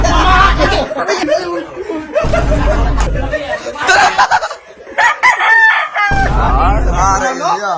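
A rooster crows loudly several times at a backyard chicken farm, the long calls separated by short pauses, with other fowl clucking and chattering nearby.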